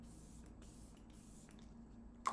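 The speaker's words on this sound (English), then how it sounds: "Set your makeup, oh my god. The Professional Spray by Benefit." Benefit Professional setting spray misted onto a face, with several short soft hissing sprays in a rhythmic series, quiet and close, ending in a sharper tap.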